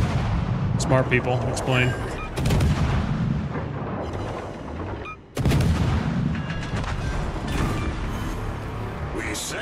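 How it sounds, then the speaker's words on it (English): Anti-aircraft guns on a warship in a naval video game fire in rapid booming bursts, loud and continuous with a brief gap midway, while a voice talks over them. "I hear my guns going off"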